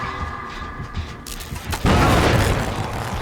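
A sudden loud explosion bursts in the Dead by Daylight game, a broad booming blast that cuts in after quieter background rumbling and lingers as a dense roar to the end.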